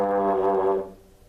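A trombone holds a single steady note for just under a second, pitched deliberately below center so the tone sits low and dark, then the sound cuts off and fades into quiet.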